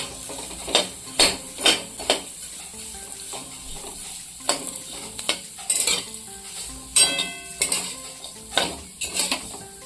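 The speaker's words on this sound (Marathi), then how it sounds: "पहिल्यांदा हे शेवया अशा चांगल्या भाजून घ्यायच्या लालसर" Vermicelli roasting in ghee for sweet shevai, with a soft continuous sizzle broken by repeated sharp scrapes and clinks of a spoon stirring against the pan, fairly close, no voices.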